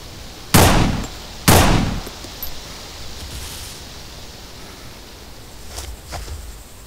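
Two sharp, loud pistol shots ring out about a second apart, each with a short decaying echo, followed by fainter distant pops over a hissing outdoor background.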